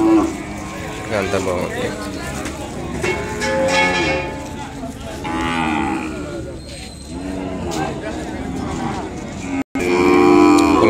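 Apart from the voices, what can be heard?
Ongole cattle calf at bull market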